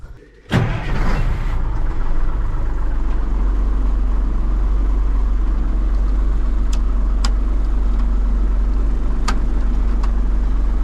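A truck engine warming up idles steadily and loudly after a sharp start-up burst, with a deep constant rumble and a few faint ticks over the top.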